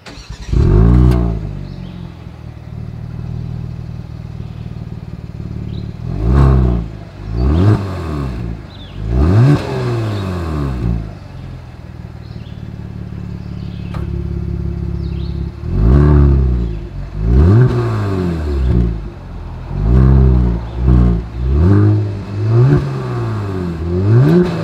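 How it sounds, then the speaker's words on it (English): A 2022 Genesis G70 engine revs repeatedly, its exhaust rising to a loud roar and dropping back to a rumbling idle between bursts, close by. "here is that exhaust clip"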